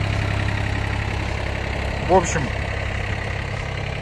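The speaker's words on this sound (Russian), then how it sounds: "Трактор у нас работать будет Yanmar 255FX." An old Yanmar FX255 Japanese compact tractor idles nearby with a steady low, even drone throughout, while someone speaks briefly over it.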